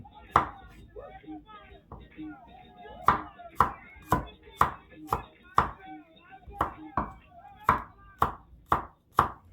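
Knife slicing garlic on a wooden board, a steady run of crisp, evenly spaced taps that quicken toward the end, close and distinct, with a voice speaking faintly in the background at the start.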